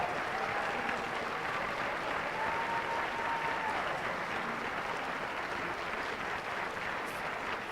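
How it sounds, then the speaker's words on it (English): A full room applauds newly sworn-in officials at the Town of Fairfield inauguration ceremony, a steady, moderately distant wash of clapping with faint voices and whistles rising above it. "And one more round of applause."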